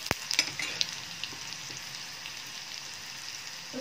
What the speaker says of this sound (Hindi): अब लहसुन को मैं थोड़ा ब्राउन होने दूंगी, देखिएगा कि लहसुन ना जले,